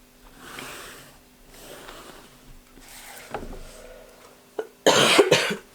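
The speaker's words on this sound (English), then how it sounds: "As I do again, I cough." A loud, close burst of two or three harsh coughs near the end, after quieter rustling and handling sounds of someone working on reading log and reading review journals.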